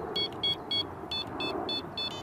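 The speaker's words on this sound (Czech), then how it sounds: "mačkáním tlačítka V měníme tón hlásiče" Mivardi Combo M1350 fishing bite alarm sounding a run of short electronic beeps, about eight in quick succession, each tone shifting slightly in pitch as the setting is stepped through, close and clear over faint background noise.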